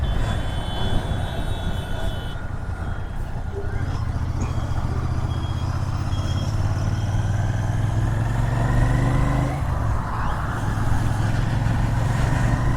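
A truck rumbles past on a rainy road alongside a moving Royal Enfield Interceptor 650: a deep, swelling engine drone that grows louder and nearer midway, then eases, over constant wind and road roar.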